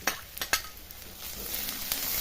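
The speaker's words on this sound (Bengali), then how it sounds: "রসুনটা আর পেঁয়াজটা ভালোভাবে ভেজে নিব।" Chopped onion and garlic paste frying in hot oil, with a few quick stirring scrapes early on over a continuous soft sizzle, close up and with no voices.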